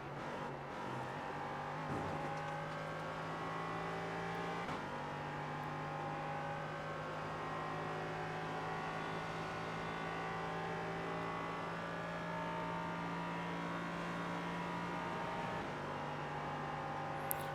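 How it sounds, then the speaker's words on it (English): An LMP3 race car engine in iRacing at Daytona drones steadily throughout, its pitch holding high with small shifts in tone, like a racing game with no voices. "if the car sounds like it's maxing out sometimes"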